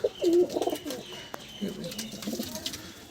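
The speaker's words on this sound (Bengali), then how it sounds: "এই যে দেখুন পায়রা স্ট্যান্ডিং দেখুন খুব সুন্দর পায়রা" Pigeons of a fancy breed cooing nearby in a loft, low throaty coos repeating in short bursts with some faint background chirps.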